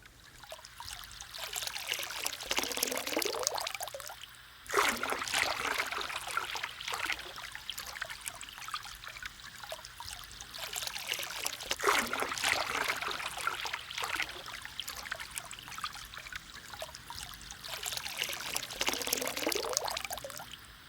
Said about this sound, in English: Gigabyte has discovered a small river in the forest, a valuable landmark to know of.